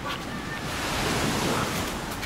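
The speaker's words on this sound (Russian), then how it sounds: "Море пока неспокойное, такие вот волны." Rough sea waves surging and washing continuously, with gusty wind buffeting the microphone throughout, on the Greek–Turkish coast near the Çanakkale strait.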